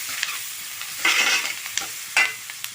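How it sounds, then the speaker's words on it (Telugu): Onions, curry leaves, turmeric and salt sizzle steadily in hot oil for a drumstick potato masala curry, with bursts of stirring scrapes in the pan, close and alone. "మంచిగా ఆయిల్లో ఫ్రై అయిపోతాయి."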